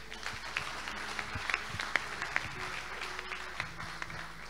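An audience claps in a church hall, a soft, fairly distant patter of hands with a few sharper individual claps.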